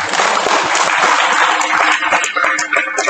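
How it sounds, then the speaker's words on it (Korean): An audience at a national Korean Bible Baptist pastors' fellowship evening service applauds church planters: a dense, steady wash of clapping from many hands, loud and close, holding for about three seconds with some voices mixed in. "우리 개척교회 우리 하신 분들 우리 격려의 박수 드립니다"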